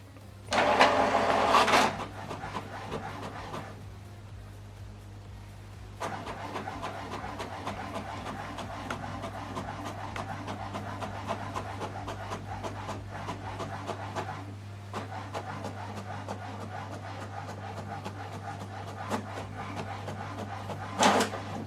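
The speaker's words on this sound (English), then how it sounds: "Now this document is printing." An HP Deskjet printer prints a document at 600 dpi, giving a steady close mechanical whir over a low hum, with a louder burst at the start and brief quieter gaps as the paper feeds and the carriage moves.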